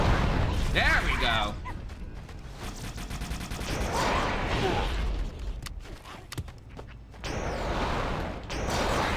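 A fuel rod cannon fires repeatedly in Halo, heavy booming blasts and bursts mixed with other weapon fire and mechanical clatter, while someone talks over the action.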